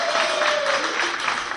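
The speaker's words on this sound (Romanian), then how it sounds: "Aplauze pentru Shamir!" A studio audience in Galați claps in a brief burst of applause, a dense, steady patter of many hands lasting under two seconds, with no talk over it.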